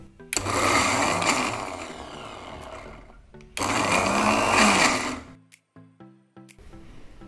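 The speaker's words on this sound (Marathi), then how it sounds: "अजून 1 किंवा 2 वेळेस मिक्सरला फिरवून घेऊया।" A kitchen mixer grinder grinds Solapuri peanut chutney in two loud, whirring bursts of about three seconds and 1.5 seconds, each stopping abruptly. The second is followed by a few short rattling knocks and then quiet.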